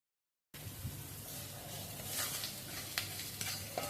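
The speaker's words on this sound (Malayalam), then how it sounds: "നമുക്കിനി പച്ചമുളക് ഇട്ട് കൊടുക്കാം ഞാൻ അഞ്ച് പച്ചമുളകാണ് എടുത്തിരിക്കുന്നത് അത് വട്ടത്തിൽ അരിഞ്ഞതാണ് ഇനി അതിട്ട് കൊടുക്കാം" Round-sliced green chillies hit a hot pan and fry with a steady, close sizzle, while a spoon scrapes and stirs them in a few sharp strokes.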